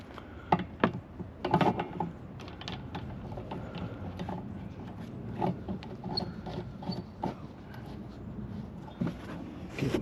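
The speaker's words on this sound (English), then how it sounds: "we're going to use the puller to avoid breaking this wiper transmission" A puller works a wiper transmission arm loose on a 2021 RAM 1500 during windshield replacement, giving scattered mechanical clicks, creaks and ratcheting taps with a few sharper knocks, close and fairly quiet, with no talking.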